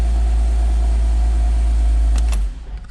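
Porsche 987 Boxster S engine on its standard exhaust, a loud steady low idle droning close by that cuts off abruptly near the end, leaving faint background noise.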